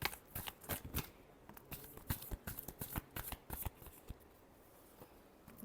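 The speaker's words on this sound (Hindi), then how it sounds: "Reading last shuffle." Tarot cards being shuffled by hand, a run of crisp riffling flutters and slaps in irregular bursts, close and fairly soft, with no talking.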